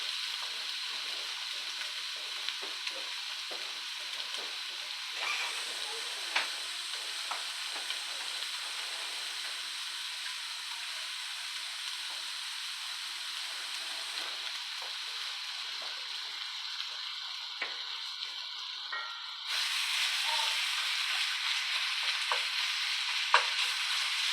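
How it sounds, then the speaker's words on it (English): A pound of country mild sausage browning in a pan, a steady low sizzle and hiss of frying meat with occasional stirring scrapes, continuous throughout and growing slightly louder near the end, with no talking. "I'm doing a pound of country mild sausage, and basically what I'll do first is just brown this meat."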